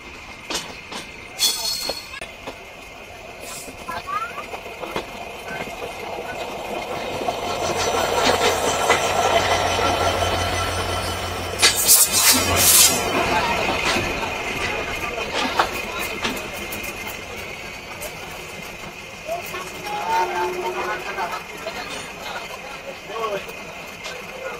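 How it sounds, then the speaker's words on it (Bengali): Trains crossing at Mobarakganj railway station in Bangladesh, including the Sundarban Express: a rumbling engine and wheel noise swells in the middle, with bursts of hissing brake air, under a passenger's talk. "এটা হচ্ছে মোবারকগঞ্জ রেলওয়ে স্টেশন। একসাথে তিনটি ট্রেনের সাথে ক্রসিং হয়ে গেল।"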